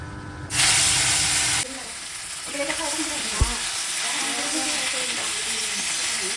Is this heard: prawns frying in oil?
yes